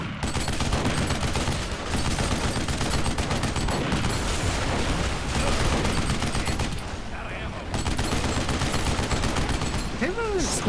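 Rapid automatic turret fire rattles in dense continuous bursts during an alien fight in Duke Nukem Forever, loud and close, with a brief pause before the shooting resumes and voices talking over it.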